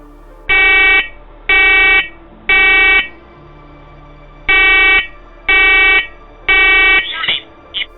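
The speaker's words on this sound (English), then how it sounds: "As soon as he enters the basement, the alarm starts going off" Loud smoke detector alarm sounding in a basement: six steady piercing beeps, each about half a second long, in two groups of three, followed by a brief burst of voice.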